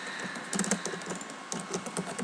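Light, irregular keystrokes on a computer keyboard tap out a short message, close and fairly quiet with no talking.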